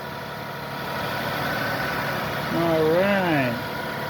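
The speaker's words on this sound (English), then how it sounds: "shot of the engine as the motor runs" A 2005 Toyota Sienna engine idles at a steady, moderate level throughout, with a person speaking briefly over the running motor near the end.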